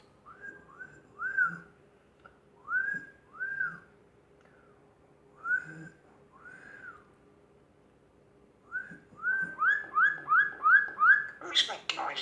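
A mynah bird whistles close by in a quiet room, a string of short rising whistled notes spaced apart, then a quicker run of repeated whistles ending in a shrill squawk, with no talk.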